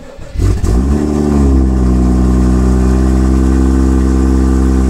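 A car engine cranks briefly and catches, then settles into a steady, loud idle close by with no talking; the car is being logged with an MHD flasher custom map.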